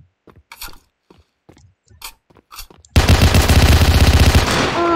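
Rapid automatic gunfire erupts in a realistic gun video game, loud and continuous, after a few seconds of quiet, sparse speech.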